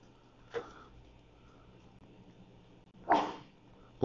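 A person sneezes in a civil engineering lecture room: a short, sharp burst near the end, preceded by a smaller brief sound earlier, both faint against a quiet room hum.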